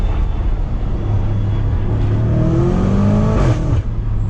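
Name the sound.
BMW F90 M5 accelerating at full throttle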